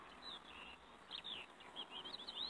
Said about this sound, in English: All the wild birds and that over there,